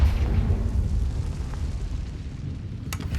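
A deep, rumbling explosion from a fire-blast spell in a Harry Potter video game, loud at first and then decaying into a low roar with a few small crackles near the end.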